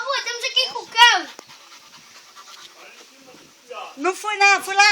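A dog named Nina pants quickly and close by in rhythmic bursts at the start and again at the end, with a quieter gap between, while someone talks nearby.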